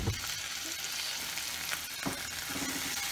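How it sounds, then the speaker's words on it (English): Balsamic vinegar hits a hot pan, giving a steady, close sizzle and crackle with a few stirring scrapes and no talking. "So now I'm just going to add a little bit of my balsamic vinegar."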